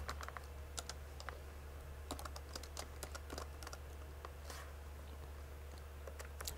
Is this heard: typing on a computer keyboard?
yes